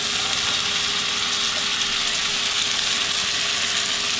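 Mushrooms and onion fry in a pan, making a loud, even sizzling hiss that holds steady throughout with no pauses.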